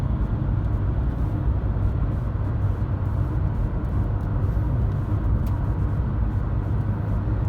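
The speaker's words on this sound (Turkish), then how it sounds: "3000 devirde 100 kilometre hızla ilerliyoruz" A Fiat Egea Urban Plus cruises in fifth gear at 3000 rpm around 100 km/h, its steady engine drone and road rumble filling the cabin evenly and continuously with no talking.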